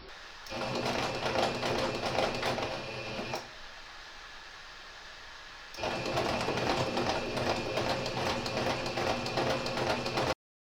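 Sewing machine stitching fabric pieces for a fairy castle height chart, a steady fast mechanical whir in two bursts separated by a short quiet pause, close and clear.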